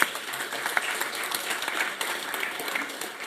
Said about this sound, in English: So give a warm applause and let's get started.